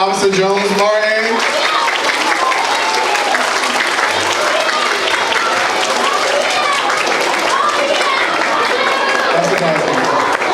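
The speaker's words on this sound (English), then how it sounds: "we're going to give a round of applause for Officer Jones Martin" Loud, sustained audience applause from a crowd of schoolchildren and adults at a school career day, dense clapping filling the space for about ten seconds with some cheering mixed in.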